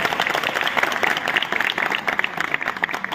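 An audience at a Pawan Singh stage event claps in a sustained burst. Many hands make sharp, scattered smacks that rise and fall in a lively, uneven patter.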